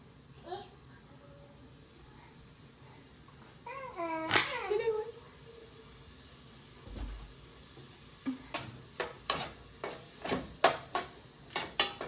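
A large onion frying in ghee and oil, faint steady sizzling underneath, with a spoon stirring and clinking against the pan in quick rhythmic taps toward the end.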